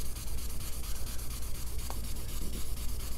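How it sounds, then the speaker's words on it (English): Steady back-and-forth scrubbing of a Mr. Clean melamine eraser against a surface to remove permanent marker, a dense rhythmic rubbing rasp close up and continuous throughout. "Mr. Clean has taken that thing off with just about no effort."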